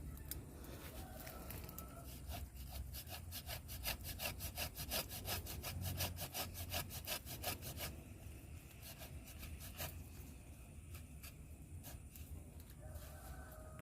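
A hand saw cuts through a large bonsai tree branch outdoors in a crowded garden, rapid rhythmic rasping strokes in a steady back-and-forth run that pauses midway and resumes, with birds faintly in the background.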